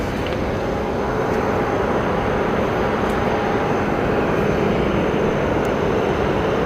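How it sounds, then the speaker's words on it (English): A Delta Airbus A321 airliner at an airport gives off a constant, loud roar of engines and airflow, a broad steady wash with faint higher whines over the top. "we have a Delta plane getting ready for push out. It's the A321."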